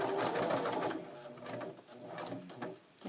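A sewing machine runs steadily, stitching a patch onto a pair of work pants, its fast mechanical whir dipping and resuming in short stretches, close and alone.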